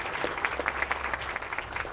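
Audience at an award presentation applauds a program manager, a short burst of scattered, moderately loud claps from a modest crowd in a room.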